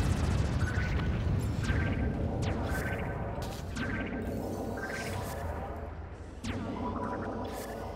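Repeated explosions rumble in the space game Spore as allied cities are fired on, a string of bright descending whistles each trailed by a heavy blast over a constant loud roar, roughly one per second.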